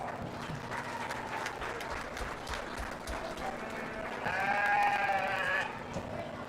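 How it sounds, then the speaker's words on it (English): Applause from the crowd at a New Mexico county fair sheep and goat show, a steady wash of clapping that holds throughout, with a sheep bleating clearly over it near the end. "Let's go ahead and give her a round of applause."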